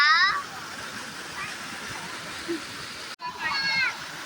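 A waterfall of monsoon runoff pours onto a wire mesh in the Konkan countryside, giving a steady rushing hiss, briefly broken by a short cut and overlaid with a few high, wavering voice-like calls.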